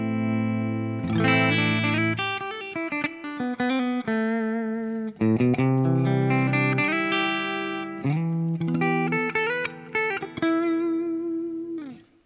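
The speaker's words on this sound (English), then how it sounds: "So let's start with a pure clean tone, little bit of reverb." Ibanez RGRT421 electric guitar played through a Neural DSP plugin in a clean tone with a little reverb, ringing chords and single notes sustaining in a steady, close phrase with no talking.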